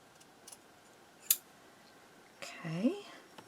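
Scissors make a single crisp snip through a paper tag booklet, close and brief, amid quiet room noise, followed a moment later by a short vocal sound.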